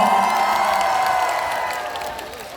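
An audience at a Korean women's association annual event claps and cheers together, a dense wash of applause that slowly fades over a few seconds.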